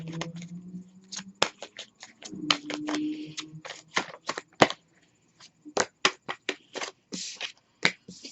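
Tarot cards being shuffled and handled close by in quick, crisp riffles and snaps, with brief pauses between bursts and a low hum in the opening seconds.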